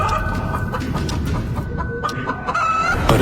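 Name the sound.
hen clucking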